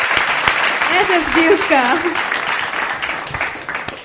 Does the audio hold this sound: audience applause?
yes